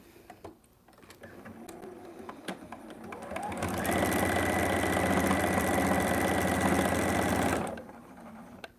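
A sewing machine stitches scrap fabric, starting up after light handling noises and running at a steady, fast, loud whir for about four seconds before stopping.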